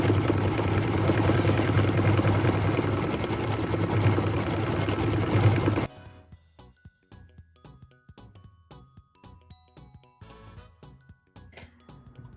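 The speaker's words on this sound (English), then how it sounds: "we'll just go ahead and let the machine stitch it" An embroidery machine stitches mint green thread. A loud, steady whirring hum runs for about six seconds, then gives way to a quieter run of rapid, evenly spaced mechanical ticks and clatter, with no voices.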